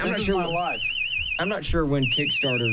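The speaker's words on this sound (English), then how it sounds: "That's the alarm at the farm." A farm alarm sounds continuously as a steady warbling high-pitched tone, running beneath several people talking throughout.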